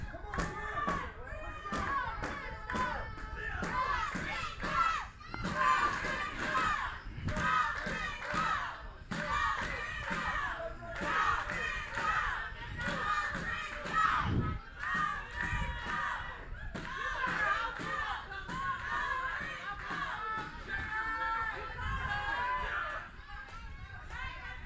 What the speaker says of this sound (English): Newbern crowd trying to get behind Chris Adams, get him going